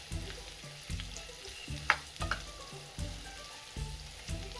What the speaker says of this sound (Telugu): ఉల్లిపాయ కాస్త బ్రౌన్ అయ్యే వరకు ఫ్రై చేద్దాం